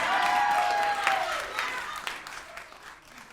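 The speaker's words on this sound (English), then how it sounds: "Claps for bullying the beautiful." Audience applause at a comedy show rings out loud at first, then fades over a few seconds into scattered claps.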